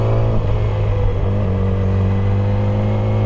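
A 2007 Yamaha R6 motorcycle engine revving in third gear, a loud close-up whine that rises and holds steady, with no voices.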